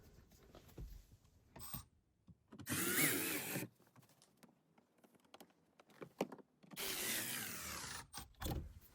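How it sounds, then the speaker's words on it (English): Power drill driving screws into a Nissan Rogue during heater and AC repair, several short loud whirring bursts separated by quiet gaps, close by, with no talk. "I'm going to use this power tool."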